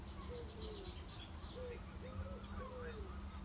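Birdsong at wetlands in April, a few soft, rising-and-falling calls, some like cooing, repeating faintly over a steady low outdoor hum.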